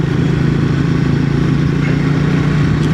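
Triumph Speed 400 motorcycle engine running with clutch and throttle worked, a loud, close, steady mid-pitched thrum with a constant low hum and no voices.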